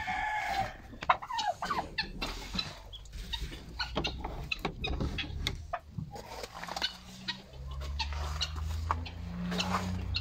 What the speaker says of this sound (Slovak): Tu sú traja moriaci.